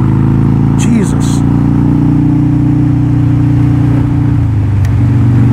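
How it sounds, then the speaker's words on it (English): A Yamaha FJR motorcycle with a Billitron carburetor running while ridden, a loud steady engine drone with slight shifts in pitch as it pulls, heard from the rider's position under wind noise. "The bike's running a lot better than the last time I rode it."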